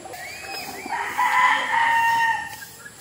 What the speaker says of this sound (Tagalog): tapos na tayo magpakain ng aking mga lagang manok